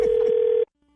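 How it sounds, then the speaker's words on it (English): A steady electronic telephone tone sounds for just over half a second during a prank call on a radio show, then cuts off abruptly into near silence. "Prank phone call time."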